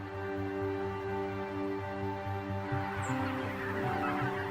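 Geese honk over the Yukon delta, with repeated calls rising from a droning background bed, moderately loud and more active in the second half.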